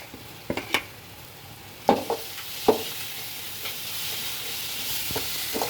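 Prawns and crab sizzle in a pan amid a hissing fry, broken by several clanks and scrapes of a spoon against the pan.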